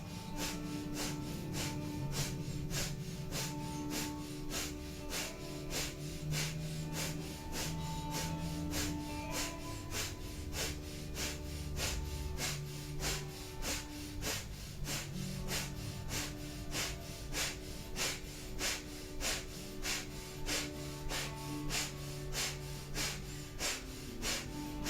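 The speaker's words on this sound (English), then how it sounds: "5 minutes of breath of fire, coming in and out of it as you need to" Breath of fire yoga breathing, rapid rhythmic panting through the nose repeated at an even fast pace for a long stretch, soft and steady with a faint background drone.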